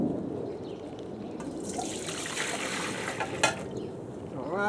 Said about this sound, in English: First, I'll pour in all the liquid, stir it a little more